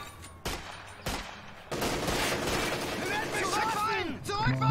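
Gunfire in the World War II strategy game Company of Heroes 2 (Ardennes Assault), with bursts of rifle and machine-gun shots and booming impacts rising into dense battle noise mixed with shouted voices.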